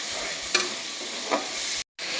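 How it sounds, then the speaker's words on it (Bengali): Spice masala for potato dum aloo being sautéed in a pan with a little water, a steady broadband sizzle with two brief stirring scrapes and a short gap near the end, no voices. "এবার মশলাটা খুব ভালো করে কষিয়ে নেব"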